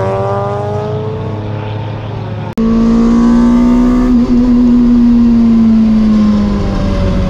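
Race cars at a time attack event, including a 2ZZ-swapped Toyota MR2 Spyder among Lotuses, with one engine droning loudly and steadily close by, its pitch climbing slightly after a sharp cut partway through.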